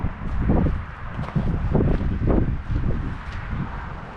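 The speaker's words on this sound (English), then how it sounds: "Still a little windy as far as the noise" Gusts of wind buffet the microphone in low, rumbling bursts, loud and uneven, with no talking.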